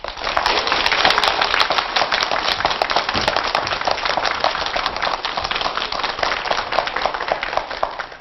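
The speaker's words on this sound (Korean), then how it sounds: "우리 커다란 박수로 김상호 이사님을 모시겠습니다" A studio audience at a televised lecture gives loud, continuous applause to welcome consultant Kim Sang-ho, a dense, crackling roar of many hands that stays at full strength throughout.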